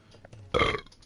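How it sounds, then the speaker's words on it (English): A single short, loud burp from a person playing a video game, rising abruptly out of a quiet background and fading within half a second. "Just burped."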